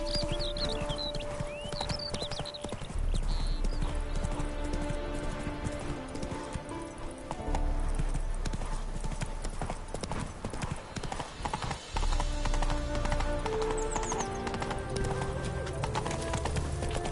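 Horse hooves clip-clop at a gallop in The Witcher 3, a steady rhythmic pounding heard close, mixed with game ambience, birds and occasional snorts, while speech-like voice lines occur.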